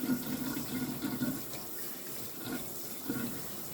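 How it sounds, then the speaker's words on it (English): Tap water runs continuously over cured farm-raised bacon as it is rinsed, making a soft, close, gurgling splash with small shifts as the meat is moved under the stream. "Give it a good rinse."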